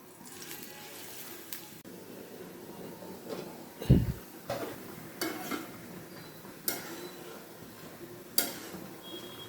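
Onions frying in about three tablespoons of oil in a pan, with scattered spatula and pan clatters, one sharp metallic knock near the middle, and a faint sizzle running underneath.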